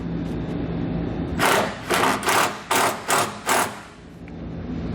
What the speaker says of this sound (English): Now I'll take the included self-tapping tech screw and use that to